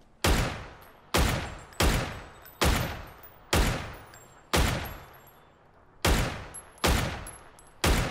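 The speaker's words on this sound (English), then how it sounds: "I shot the guy twice with his gun." Gunfire in the video game PUBG: nine loud single shots at a steady, roughly one-second pace, each with a sharp crack and a reverberant tail, close and dominant with no talk.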